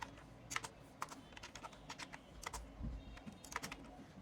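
Someone types C code on a computer keyboard, with quick, irregular bursts of clicking keys that are close but quiet, and no talking.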